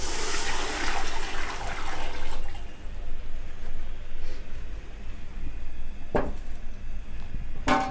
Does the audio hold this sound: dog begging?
no